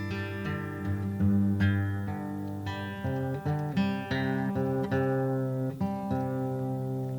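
A guitar is tuned on stage during a live radio concert in Santa Monica: single plucked notes and strummed chords ring out in an irregular, repeated pattern, clear and moderately loud, with no talking.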